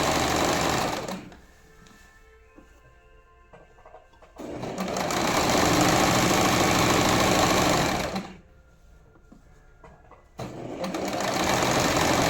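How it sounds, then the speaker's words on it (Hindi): A sewing machine stitches kurta pajama fabric in two long runs of rapid, loud, steady needle chatter, separated by a quieter pause, then starts up again. "जो ये क्रोच एरिया है इस पे हम एक सिलाई लगाएंगे"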